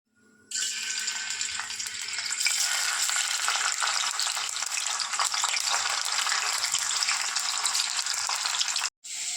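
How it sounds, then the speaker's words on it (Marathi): Paneer cubes fry in a generous amount of hot oil for matar paneer, giving a loud, steady, close sizzle that starts abruptly, runs unbroken for about eight seconds, then cuts out briefly near the end. "तर आता 2 मिनिटं फ्राय करून घेते पनीरला"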